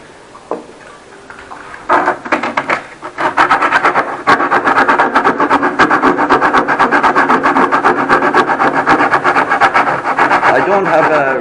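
A rasp-like rubbing on a cyclone dust separator part starts after a few loose knocks, then settles into steady rapid back-and-forth strokes, loud and close, while someone talks over it at times.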